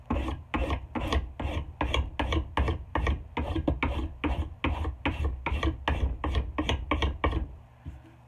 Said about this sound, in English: we're going to take our Nicholson and smooth into the handle